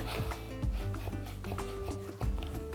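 A knife cutting through a red onion on a board, a few close, soft crunching strokes with rubbing between them, quiet and without talk.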